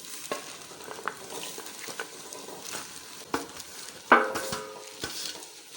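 Pieces of apple gourd (tinda) frying and being stirred in a pan, a steady low sizzle with scattered scraping knocks and a sharper clatter partway through, no voices.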